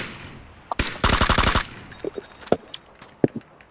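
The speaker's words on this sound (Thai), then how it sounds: "เฮ้ยเขายิงรถเรา" Gunfire in the video game PUBG aimed at the player's car: a single shot, then a rapid burst of about eight loud automatic rounds, followed by scattered sharper single shots and small impacts, with no talking.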